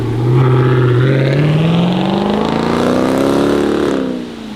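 A Jeep Grand Cherokee SRT 6.4 V8 with an X-pipe, muffler delete and 5-inch tips revs up with a loud, deep, throaty rumble that climbs steadily in pitch, then drops off near the end; no voices.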